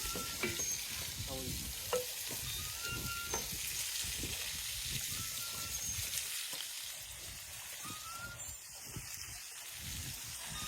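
Pieces of fish sizzle steadily in hot oil in a pan, a continuous bright frying hiss with occasional stirring scrapes and pops, close and moderately loud, with no talk.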